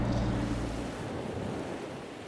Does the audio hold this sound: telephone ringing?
no